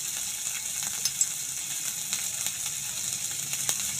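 Sweet corn with chili flakes and a little salt sizzles in a pan while being stirred, giving a steady soft hiss with a few faint scraping clicks, close and alone.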